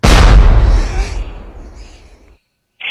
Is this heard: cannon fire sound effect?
yes